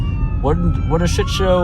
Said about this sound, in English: No, that's just the ambulance.